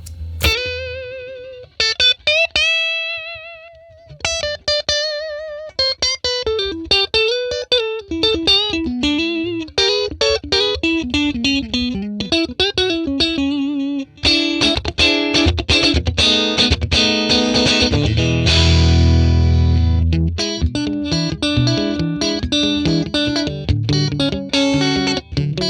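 Electric guitar played through a Fender 1957 Tweed Bassman amp model with reverb switched off, single notes and fast runs giving way to driven chords and a sustained crunchy chord, edge-of-breakup tone, loud and alone.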